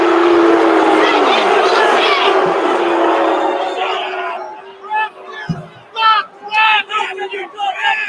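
A crowd booing sound effect plays from a soundboard during a post-game show for a Warren versus North Brunswick game: a loud, sustained roar of disapproving voices that fades out, followed by people speaking.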